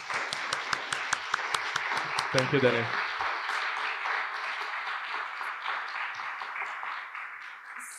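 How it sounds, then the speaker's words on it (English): Audience applause at a climate conference panel event, steady dense clapping from a crowd with a brief spoken thank-you over it near the start. "Let's give him a round of applause"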